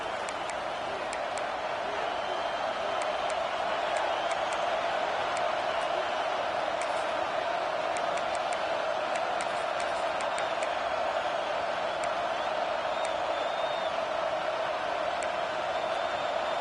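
A stadium crowd at a football game roars in a continuous loud wash that stays steady throughout, with faint ticking sounds scattered through it.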